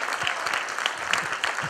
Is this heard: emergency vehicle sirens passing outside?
no